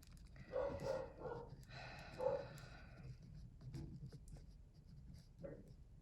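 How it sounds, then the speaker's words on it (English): A dog barks a few times in short bursts, fairly close, then goes quiet while faint room noise continues. "Sorry, my dog's barking."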